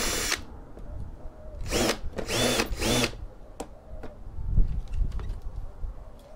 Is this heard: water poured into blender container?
no